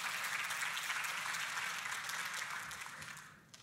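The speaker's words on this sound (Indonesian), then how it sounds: "Boleh kita kasih tepuk tangan." A congregation claps together at a church service, a bright, fairly distant burst of applause that holds steady and then fades out toward the end.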